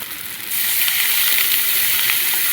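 Water hits hot oil and ground spice paste in a pan, jumping from a quieter sizzle into a loud, sustained crackling hiss that stays up close and constant, with no talking.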